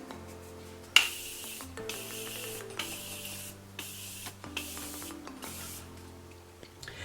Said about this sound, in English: we're prepping the skin for highlighter using the Morphe Continuous Setting Mist